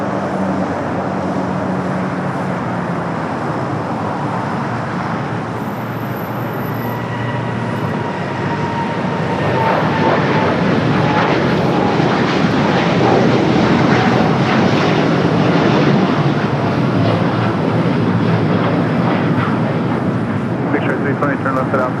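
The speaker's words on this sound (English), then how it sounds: "United Dreamliner heading to Hong Kong, flight 152. Now rolling down at 25 right." A United Boeing Dreamliner bound for Hong Kong accelerates down runway 25 right at LAX, a loud, dense jet engine roar that builds and stays strong through the takeoff roll, with radio chatter and voices faintly mixed in.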